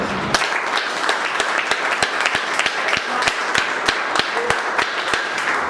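An audience at a company meeting applauds Supreme Feed Developers Pvt Ltd, a run of distinct, fairly close claps in an uneven rhythm lasting several seconds, with no talk over it.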